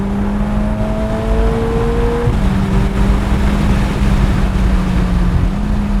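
A Ferrari daily-driver sports car accelerates hard, its engine holding a steady loud drone with a brief pitch drop at a gear change, heard from inside the cabin over road and wind noise.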